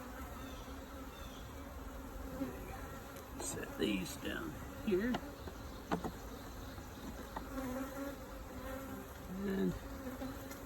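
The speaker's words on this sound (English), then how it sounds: "A few bees there." Bees buzzing around an open beehive during an inspection, a constant near drone with louder passes as bees fly close, while a person speaks briefly.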